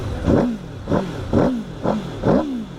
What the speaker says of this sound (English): let's give that a little rev